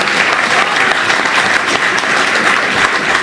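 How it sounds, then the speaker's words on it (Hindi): A large university audience at a poetry recital claps loudly and continuously, a dense, even wash of applause throughout. "बीएचयू वालों, एक बार जोरदार ताली अपने लिए बजाओ।"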